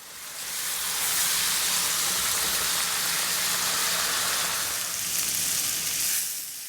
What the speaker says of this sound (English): I just want to cook this wine down and help pull some of the flavors off the bottom of the pan